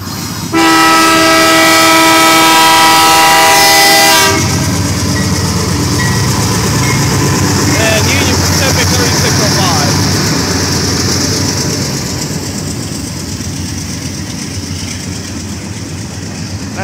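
BNSF 744 freight locomotive passing through Effingham, Illinois, with its engine running rough and a bad bearing on a car: a loud horn blast opens, then a sustained roar of engine and rumbling, clattering cars fades gradually, with someone talking.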